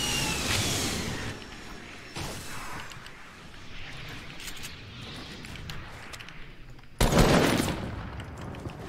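Heavy sniper rifle shots ring out in a Fortnite-style video game, loud cracks near the start and a sharp blast around seven seconds, with game noise and distant gunfire filling the gaps.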